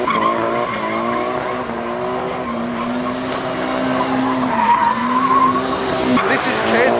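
Cars drifting with long, wavering tire squeals and revving engines at a close distance. The squeal holds almost continuously, followed by a burst of sharper noise near the end.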